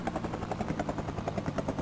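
A helicopter's engines spin up in the Commodore Amiga video game Rescue, a rapid chopping rotor pulse with a droning engine tone, steady and moderately loud.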